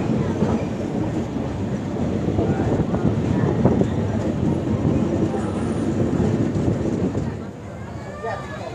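A train rumbles steadily along the tracks near Bhopal, a dense continuous roar with rattling from the carriages, and voices faintly mixed into the noise.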